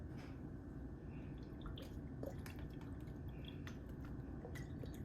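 Worcestershire sauce dribbled over an Angus beef roast, soft close drips and wet splatters falling in an uneven pattern over a low background hum.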